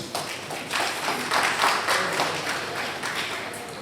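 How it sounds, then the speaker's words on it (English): An audience at a Nigerian Bar Association legal education session claps in a steady, dense round of applause, broad and sustained across the room, with faint voices underneath. "can we give our round of applause?"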